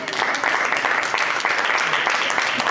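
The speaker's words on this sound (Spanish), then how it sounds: "Dile palmas al Señor." A church congregation claps along in praise during a Spanish-language sermon, a dense, steady wash of hand claps filling the room, with voices mixed in beneath it.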